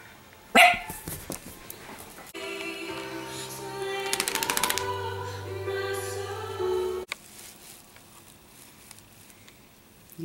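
An Italian Greyhound gives a sharp bark near the start, followed by patter and clicking household sounds with a steady tonal hum in the background.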